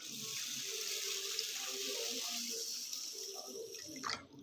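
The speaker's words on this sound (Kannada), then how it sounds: "ಇವಾಗ ಅಕ್ಕಿ ಮುಳುಗುವಷ್ಟು ನೀರು ಹಾಕೊಳ್ಳೋಣ." Tap water runs steadily into a pot of washed rice in a home kitchen, a continuous splashing stream that eases off and ends near the close.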